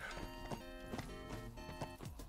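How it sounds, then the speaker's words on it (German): Horses gallop in the video game Dark Souls 3, their rapid, rhythmic hoofbeats thudding through a dense, continuous layer of game music and ambience over a couple of seconds. "Die Pferde sind schon wieder hinter uns her."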